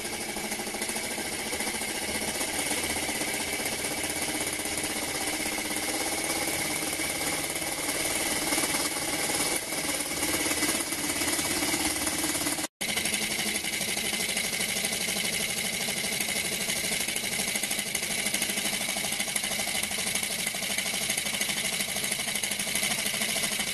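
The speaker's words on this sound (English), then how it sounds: "Sounds like a petrol engine rather than a steam engine. Pretty noisy." A small rotary valve steam engine runs steadily and noisily on air pressure throughout, a dense mechanical chugging like a petrol engine, with a brief dropout partway through.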